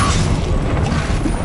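An Incendio fire spell cast in Hogwarts Legacy erupts as a loud, dense whooshing burst of flame, a steady roaring rumble held close for about a second and a half.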